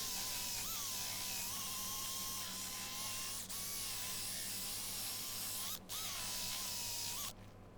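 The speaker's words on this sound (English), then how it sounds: "Then eventually we sanded it up to 600 grit on the inside." Wood-turned yew tea light bowl sanded on the inside up to 600 grit, a steady whirring drone with a faint high whine and brief dips, continuous and moderately close.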